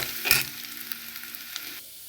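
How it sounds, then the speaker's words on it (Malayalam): Onion and dried red chillies frying in oil for a raw mango pachadi: a quiet sizzle with a sharp clink near the start, then small scattered pops. "അങ്ങനെ ഏകദേശം ഉള്ളിയും വറ്റൽമുളകും എല്ലാം മൂത്ത് വന്നിട്ടുണ്ട്."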